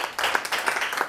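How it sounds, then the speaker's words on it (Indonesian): A church congregation claps and cheers in praise of God, a brisk run of loud, dense handclaps with a rough rhythm that fills the moment. "Berikan sorak-sorai buat Tuhan"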